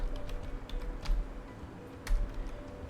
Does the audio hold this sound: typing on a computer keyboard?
yes